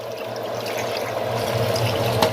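Water pours steadily into a pot as stock for Nigerian soup, a continuous close splashing and trickling wash with no talk over it.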